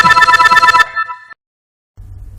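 A mobile phone rings loudly with a repeating electronic ringtone pattern that stops abruptly partway through, leaving a brief silence before low background sound returns.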